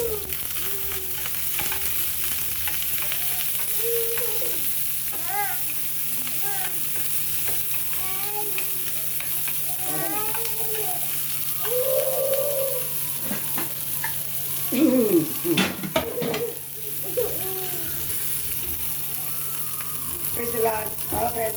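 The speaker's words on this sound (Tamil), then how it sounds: "வெங்காயம், வரமிளகா, கருவேப்பிலை போட்டு வதக்கலாம்" Onion, dried red chillies and curry leaves sautéing in a pan for horse gram rasam, a constant close sizzle with crackles and pops, and a burst of louder stirring and spattering partway through.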